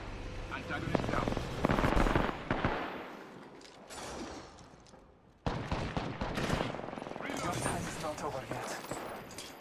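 Gunfire rattles in Apex Legends in loud dense bursts of rapid shots, pausing briefly midway before resuming, with other game sounds mixed in.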